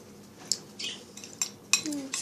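Metal cutlery scrapes and clinks against a dish while a microwaved sugar cookie is worked loose, several short close scratches and taps at irregular intervals in a quiet room.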